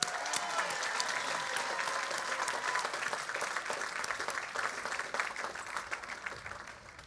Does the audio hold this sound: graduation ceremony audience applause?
yes